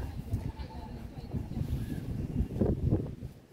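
Wind buffets the microphone at the Peak Tower viewpoint, a low, uneven rumble that swells and fades in gusts and rises strongest near the end.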